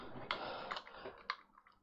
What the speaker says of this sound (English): Needed extreme force to push those keys.